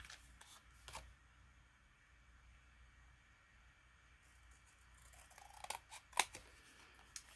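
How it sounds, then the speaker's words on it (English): Scissors fussy-cut a scrap of scrapbook paper: quiet, close snipping, with a few scattered soft cuts followed by a cluster of sharper snips near the end. "I will fussy cut that out"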